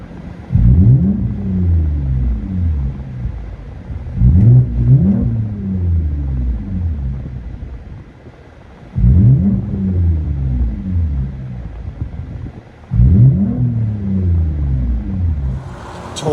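A 2023 Toyota Camry TRD with a 3.5L V6 and straight-pipe exhaust revs hard in four separate loud bursts, each rising and falling with a deep rumble, separated by brief idle pauses.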